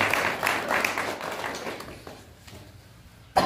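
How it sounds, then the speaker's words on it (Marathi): An audience at a village farmers' gathering clapping for themselves, a dense burst of applause that runs for about two seconds and then fades, with a brief sharp clap at the very end. "आपण आपल्यासाठी स्वतः टाळ्या वाजवाया आहे"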